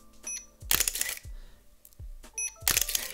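A Hasselblad H3D medium-format camera fires its shutter several times, each release a sharp mechanical clack with a brief whir, spaced unevenly and heard up close with no voices.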